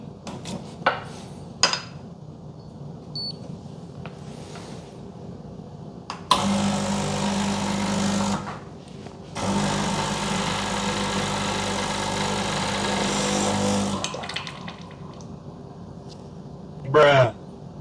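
A Sunbeam Torino espresso machine brews a double shot from an 18 gram dose, giving a loud steady pump drone from about 6 to 8.5 s and again from 9.5 to 14 s, with clinks and handling noises around it.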